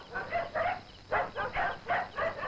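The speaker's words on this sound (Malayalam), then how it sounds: "പോറ പട്ടി അവിടുന്ന്" A dog barks in a Malayalam comedy scene, seven rhythmic barks in quick, evenly spaced pairs at moderate distance, with no talk over them.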